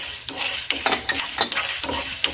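Coriander seeds and dried chillies dry-roasting in a pan, with a scraping stir repeating every half second or so over a light sizzle, close and fairly loud.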